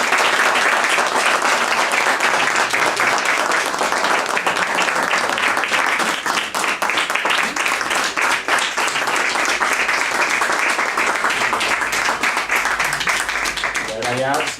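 An audience at a theatrical book presentation gives the author a long, dense round of applause, loud and sustained throughout with crowd noise mixed in.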